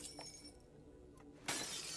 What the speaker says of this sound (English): Okay, I can break glass.